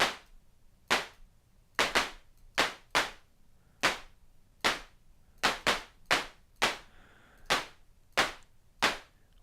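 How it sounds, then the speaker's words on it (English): A synthesized clap programmed on a synthesizer, with its top end cut back and more bottom end added, repeats as a steady series of sharp, dry hits with short decays over quiet silence. "It's not a bad clap"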